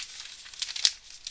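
Paper crinkles and rustles as a sketchbook is picked up and handled for watercolor work, a brief close series of soft crumpling sounds with one sharper crackle near the middle.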